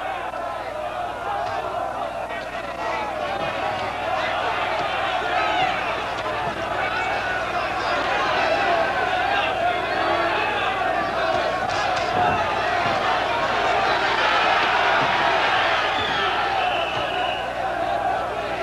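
Steady roar of a boxing arena crowd at the Hector 'Macho' Camacho vs Ray 'Boom Boom' Mancini fight, loud and continuous with swelling cheers and shouts throughout, no clear speech standing out.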